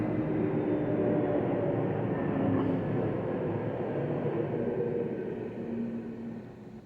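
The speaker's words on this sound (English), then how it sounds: "That was a plane going over. I have my window open." A passing airplane overhead comes through an open window as a steady broad rumbling roar, fairly faint and distant, holding level for several seconds before slowly starting to fade.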